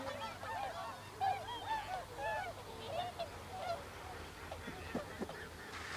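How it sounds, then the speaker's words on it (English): A flock of swans calls repeatedly while flying in over icy water, overlapping honking cries rising and falling over a low steady rumble, moderately near with no voices. "There's a nice flight of swans coming in again here."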